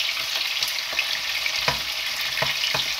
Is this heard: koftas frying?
yes